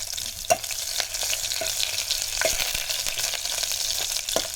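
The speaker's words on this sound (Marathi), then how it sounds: "मस्तपैकी लसूण आणि मिरची परतवून झाली आहे" Garlic and green chilies sautéing in hot oil, a loud, steady close sizzle with scattered scraping knocks from a spatula stirring in the pan, no voices over it.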